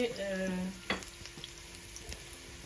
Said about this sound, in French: nos oignons étaient déjà en train de cuire dans l'huile